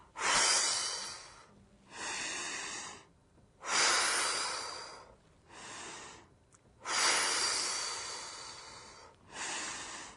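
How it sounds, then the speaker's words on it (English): Slow breathing during a strengthening exercise for recovery, with three long airy breaths in, each followed by a shorter breath out, evenly paced, close and clear with no talk over them. "Breathe out. Breathe in."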